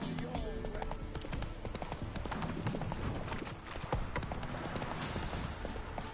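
Hooves of Geralt's horse Roach clip-clop in a dense, steady trotting rhythm in The Witcher 3 on PS5, close and busy throughout, with a voice speaking over the hoofbeats.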